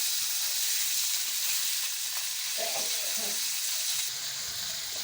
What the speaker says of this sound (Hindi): ये माशाल्लाह से हमारा चिकन थोड़ा सा फ्राई हो चुका है।